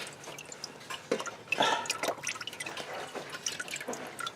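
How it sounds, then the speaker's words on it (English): Transmission fluid drips steadily from a lowered transmission pan into a drain pan below, a run of quiet, irregular drips and splashes with no voices. "gently lower the pan and spill out the rest of the fluid"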